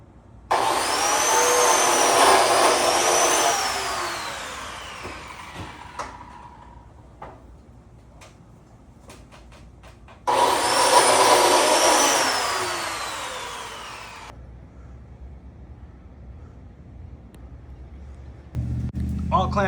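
A biscuit joiner cuts slots in wooden boards for a custom built-in: two loud, separate whining motor bursts a few seconds each, spin-up and wind-down, with quieter clicks and handling noise between them.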